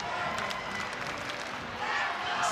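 Crowd noise from an indoor volleyball arena during a LOVB Houston at LOVB Austin match, a steady wash of cheering and applause that swells slightly near the end, with commentators talking over it.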